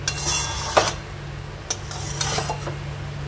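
A spoon scrapes and clinks against a pan while fried paneer is stirred into pulao. The strokes are intermittent and moderately close, over a steady low kitchen hum, with no talking.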